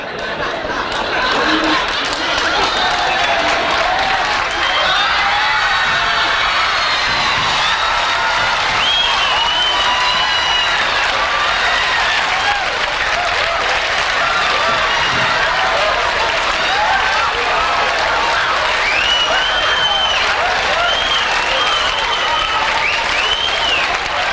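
Studio audience on The Tonight Show breaks into loud, sustained applause, with scattered cheers and crowd chatter mixed in throughout, holding at full volume for the whole stretch.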